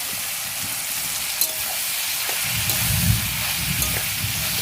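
Soybean chunks sizzling in a pan while being stirred, a steady frying hiss with low scraping and clattering of the spoon building toward the end.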